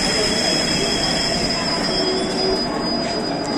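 A special passenger train standing at Rajkot junction station with its engine just coupled, giving a loud continuous rumble and metallic wheel squeal with steady station noise throughout.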